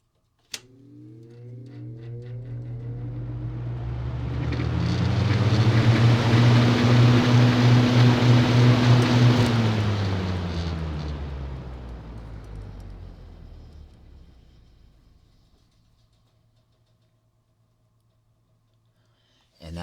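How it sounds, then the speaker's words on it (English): A 1970s Hunter 7-blade box fan motor heard from behind spins up with a rising hum and whoosh, holds a steady drone, then slowly spins down and fades out. "From behind, sound of the motor."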